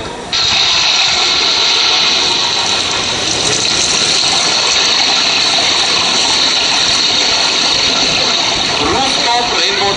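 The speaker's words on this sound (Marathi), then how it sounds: "रूफटॉप रेन वॉटर हार्वेस्टिंग म्हणजे पावसाचं पाणी साठवणं." Rainwater gushes off a rooftop in a loud, steady, unbroken rush of splashing water that starts abruptly and holds constant throughout.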